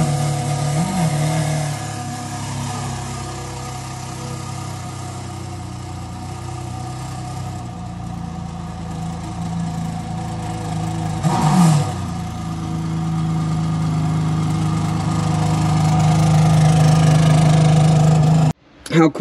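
A Ferrari Enzo engine with stock exhaust cold-starts in a garage, idling with a deep, rumbling tone, briefly blipping higher around the middle, then settling into a steady drone before cutting off abruptly.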